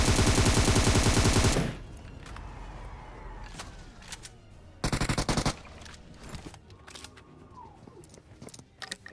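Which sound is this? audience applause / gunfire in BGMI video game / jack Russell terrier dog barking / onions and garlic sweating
gunfire in BGMI video game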